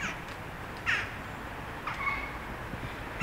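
A heron squawks from the woods of Lamlash on the Isle of Arran, giving a couple of short, harsh calls, one near the start and another later, over a steady outdoor hiss of birdsong and breeze.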